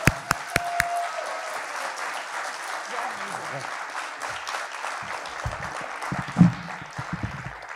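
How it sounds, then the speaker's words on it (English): An audience at an alumni fellow award event breaks into applause after a few sharp isolated claps, the clapping spreading into a soft, moderately distant wash, with scattered voices and a brief louder burst near the end. "Let me hear a huge round of applause from everybody."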